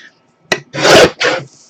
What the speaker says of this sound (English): This trimmer kind of throws me off because it's got the numbers across the top here